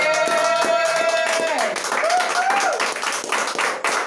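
A congregation at a French and English church service claps together for Jesus, a steady run of close, loud claps mixed with a sustained sung or keyboard tone and voices.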